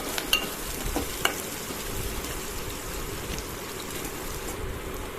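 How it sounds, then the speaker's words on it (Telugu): Onion, green chili and peanuts frying in oil, a steady close sizzle with a few sharp scraping or stirring taps near the start, with no voices. "ఆనియన్, పచ్చిమిర్చి, పల్లీలు ఆయిల్లో ఫ్రై చేసేసేయండి."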